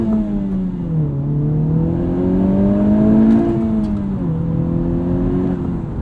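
A 2021 Honda Civic Type R Limited Edition engine rising and falling in pitch as the car accelerates on the road, a loud steady drone heard from inside the cabin.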